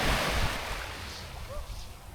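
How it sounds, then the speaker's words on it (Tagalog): Surf and strong wind at a white-sand beach in Agno, Pangasinan: broad continuous roar of waves with gusty wind buffeting the microphone, loudest at first then easing slightly. "Nagkakataon lang talaga, malakas yung hangin. Aling alon"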